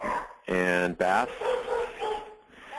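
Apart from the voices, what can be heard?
dog barking in the background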